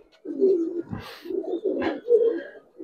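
Giribaz and coloring pigeons coo in low, throaty rolls, several close bursts in steady succession with brief pauses between them.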